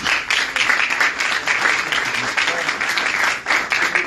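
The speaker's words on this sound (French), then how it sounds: "On peut les applaudir s'il vous plaît." A press conference audience claps steadily and loudly throughout, a dense, continuous wash of applause with no break.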